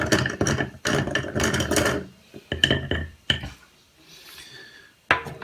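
Small model car chassis parts are stirred in a container of paint stripper, giving bursts of rattling, clinking hard-on-hard clatter separated by short pauses, close and fairly loud.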